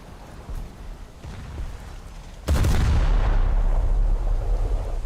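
Naval guns fire from a warship in the game Mogador, one sudden heavy boom that rolls into a sustained loud rumbling roar after a quieter stretch of engine and ambient noise.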